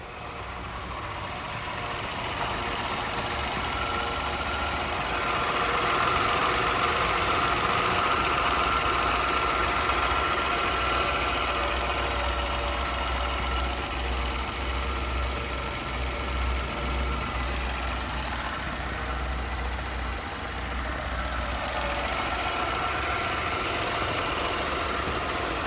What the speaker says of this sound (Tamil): இப்போ இந்த வண்டியோட இன்ஜின் சவுண்டு எப்படி இருக்குன்றதை நம்மளோட கேமராவை இன்செர்ட் பண்ணி சவுண்டை நான் காட்டிடுறேன்.